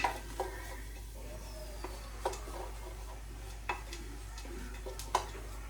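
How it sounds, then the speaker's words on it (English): A utensil stirs chili with beans and chili powder in a cooking pot, giving a few soft scraping sweeps and light taps against the pot over a quiet background. "So I'm gonna give it a quick stir."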